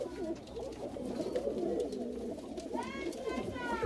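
Mukho pigeon cooing in a low, burbling run beneath background voices and ambient noise, moderately close, with a few sharper bird calls near the end.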